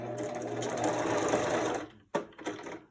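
A freshly cleaned sewing machine stitches fabric in a smooth, fast, close whir for about two seconds, then stops and gives two short bursts of stitching with brief handling noises, and no one speaks.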